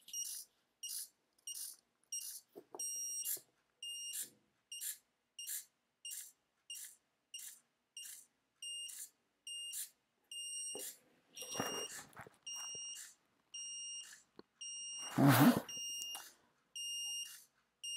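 A minisumo robot's ultrasonic distance sensor drives a steady series of short, bright electronic beeps at a regular pulse, loud and close, joined near the end by a couple of brief handling noises.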